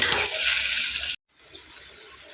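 Water pours from a tap into a mortar used for pounding garlic and chili, a steady close hiss that cuts off abruptly, then a softer trickle resumes.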